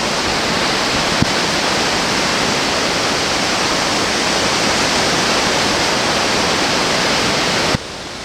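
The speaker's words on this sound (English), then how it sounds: "big waterfall." A large waterfall in New Brunswick, Canada roars as a loud, steady broadband rush, close and continuous, cutting off abruptly near the end.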